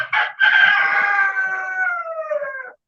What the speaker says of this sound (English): I've got chickens, as you guys can hear my rooster